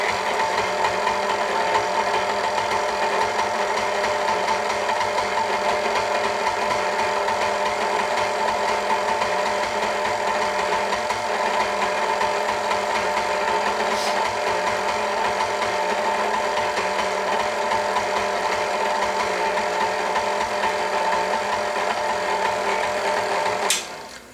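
A stand mixer kneads bread dough with a continuous, steady motor whir and faint mechanical rattle, running loud and unbroken throughout with no talking.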